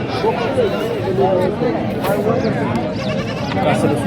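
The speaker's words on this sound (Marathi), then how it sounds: "आता आपण ही शेळी कवर करतोय" Goats bleat repeatedly amid a busy goat market, with people talking nearby under and between the calls.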